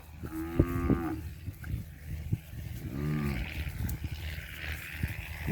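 White cattle in a herd grazing free on open pasture, with a couple of deep, drawn-out moos close by standing out over steady outdoor ambience.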